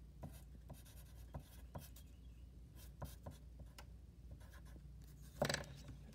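A pen writes on paper in quiet, close strokes, soft scratchy taps spaced irregularly with one brief louder knock near the end, no talking.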